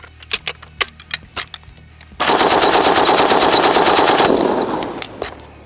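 An MG3 machine gun fires one long, extremely rapid burst of about three seconds, loud and close, preceded and followed by sharp metallic clicks and clacks of handling.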